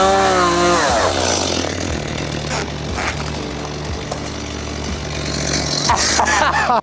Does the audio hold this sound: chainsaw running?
yes